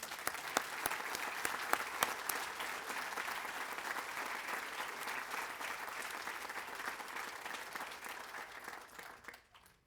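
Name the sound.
applause for veterans' family members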